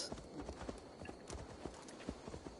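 Horse hooves clip-clop in a steady, close rhythm in the video game Assassin's Creed Valhalla, with a faint whinny mixed into the game's ambient sound.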